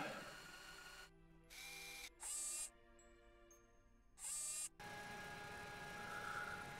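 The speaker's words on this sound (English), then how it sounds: "Do a little bit of drilling." Surface sample drill in Kerbal Space Program on Gilly: a quiet mechanical hum with several short, bright whirring bursts, then a steadier grinding whir that carries on to the end.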